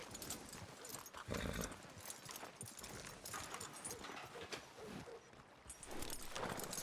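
Rhythmic horse hoofbeats in Red Dead Redemption 2 clip-clop at a steady pace, fairly close, with a faint whinny and a little background talk.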